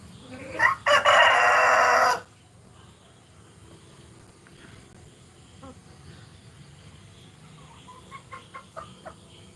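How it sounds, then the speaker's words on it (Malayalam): A rooster crows loudly and close by for about a second and a half at a Kerala family home, then hens cluck softly and intermittently in a quiet yard for the rest of the clip. "അപ്പോൾ അവിടെ കുറച്ച് കോഴികൾ അപ്പം അവരെ ഒന്ന് കാണിക്കാൻ വേണ്ടിയിട്ട്"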